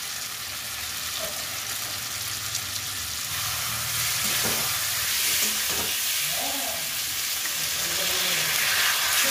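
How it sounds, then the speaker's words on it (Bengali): Potatoes sizzling and being sautéed with spices in a hot pan, a continuous close frying hiss that grows slightly louder, broken by scraping stirs, with no talking. "আলুগুলো দেবো দিয়ে একটু কষাবো"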